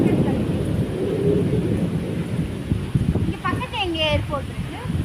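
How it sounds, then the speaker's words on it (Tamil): Strong storm-like wind gusts through a village, a steady roaring rush that buffets the microphone, with thin high warbling whistles rising briefly near the end. "காத்து புயல் மாதிரி அடிக்குது சும்மா"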